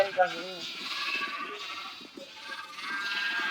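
Sheep bleat in the video game Minecraft, a short wavering bleat at the start, with people talking over a faint background hum for the rest.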